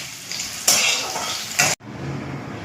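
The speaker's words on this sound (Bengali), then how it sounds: "শিম আলু প্রথমে ফ্রাই করে নেব।" Potatoes and flat beans frying in hot oil, a steady sizzle with bursts of louder spattering as they are stirred, then an abrupt cut to a quieter sizzle.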